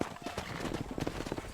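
Horse hooves clip-clop steadily in Red Dead Redemption, a quick run of close hoofbeats over a short stretch with a faint voice audible behind them.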